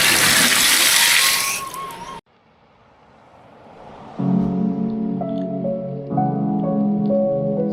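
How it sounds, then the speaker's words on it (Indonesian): A tap in a campsite washroom in a mountain riverside village gushes loudly with a dense hiss for about two seconds, then cuts off abruptly and gives way to quiet background tones. "Kita cek dulu airnya, apakah air mengalir."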